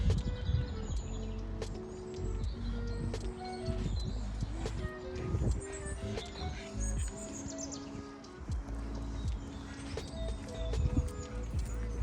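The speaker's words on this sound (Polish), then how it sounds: "Słuchajcie tego śpiewu ptaszków." Small birds chirp and twitter outdoors on a sunny spring day, scattered bright calls over a low background hum, moderately close, with occasional soft knocks and rustles between them.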